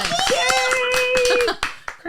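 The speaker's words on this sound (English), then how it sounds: "Give yourselves all a round of applause." A small group applauds with scattered, uneven hand claps under a sustained high voice or whistle, breaking into a few final separate claps before stopping.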